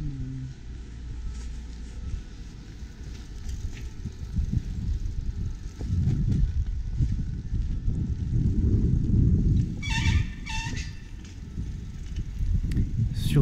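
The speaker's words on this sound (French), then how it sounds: "Sur ce doux bruit de patin de frein usé" Worn bicycle brake pads squeal in a few short, shrill bursts near the end, above a constant low rumble of outdoor riding and city traffic on a ride from Jussieu to Courbevoie, in the Paris area.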